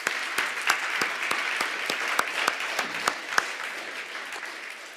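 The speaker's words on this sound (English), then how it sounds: "please join me in a round of applause for the 2020 CFO Lifetime Achievement Award winner" A room of guests at the 2020 CFO Lifetime Achievement Award presentation breaks into steady applause for winner Greg McKinney, a dense wash of clapping with a few sharp, distinct claps standing out near the front.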